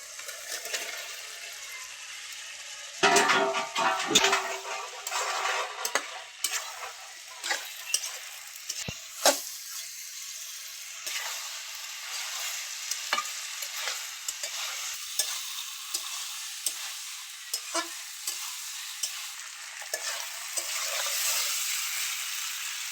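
Fried potatoes and ground cumin paste sizzling in a pan while being stirred, with scraping spoon strokes and bursts of loud frying hiss that settle into a steadier, quieter sizzle.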